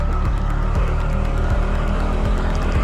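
A motorcycle engine labors steadily and loudly on a hilly countryside ride, a continuous droning roar with rhythmic low thumps and no break.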